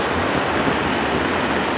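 Heavy floodwater from Southville rushes by in a constant, close, full-bodied roar, with no one talking.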